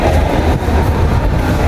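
A train rumbles loud and close at Kamalapur railway station, a dense, continuous low roar of wheels and carriages with faint rhythmic clatter and no voices.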